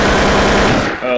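KF7 Soviet gun in a Counter-Strike-style game firing a rapid, loud automatic burst lasting about a second, close and punchy, then cutting off.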